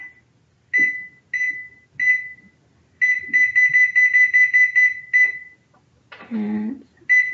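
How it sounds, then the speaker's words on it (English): A kitchen timer is set for baking oatmeal breakfast cookies, giving a run of sharp electronic beeps, single presses and then a rapid string, close and loud, with a brief burst of other noise near the end. "So I'll set my timer."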